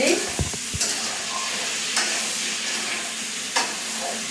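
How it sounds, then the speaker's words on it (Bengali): Vegetables with ginger garlic paste and salt fry in a pan, giving a continuous soft sizzle with occasional stirring scrapes and a couple of brief knocks near the start. "একটু লবণ দিয়ে দিব লবণ দিলাম দিয়ে এখন ভালো করে ভাজতে"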